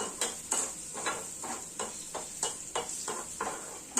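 Spices crackle and sizzle in hot oil as a tempering for pongal, with a series of sharp pops and spits landing roughly every half second, close and lively.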